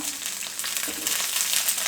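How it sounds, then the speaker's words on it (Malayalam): Steady, crackling sizzle of okra frying in hot oil, dense and continuous with no pauses, close up. "കുറച്ച് എണ്ണ ഒഴിച്ചിട്ടുണ്ട്. ഇതിലേക്ക് നമ്മുടെ വെണ്ടയ്ക്ക ഒന്ന് ഇട്ട് കൊടുക്കാം"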